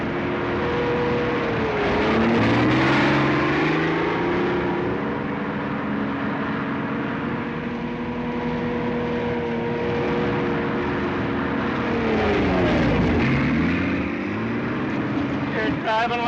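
A car engine drones steadily, with rising and falling tones as it speeds up and slows, loud and continuous throughout with no pause.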